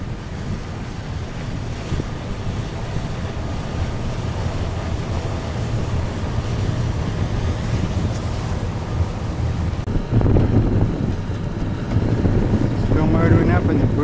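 Boat motoring toward an opening bridge on open water, its engine a steady low drone mixed with wind buffeting and splashing waves that grow louder near the end.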